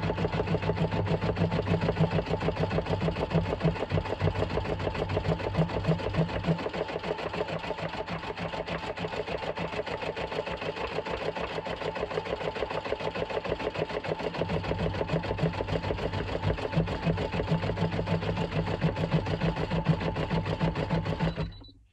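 An embroidery machine stitches a Halloween design with a fast, steady mechanical whirring and needle chatter. It runs continuously and loudly up close without pause.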